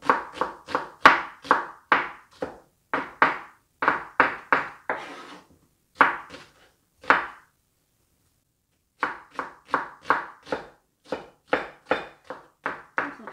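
A knife chops vegetables such as onion and king oyster mushroom on a cutting board for mapo tofu. The cuts come in quick, steady, close-up knocks, break off for about two seconds, then start again at the same even rhythm.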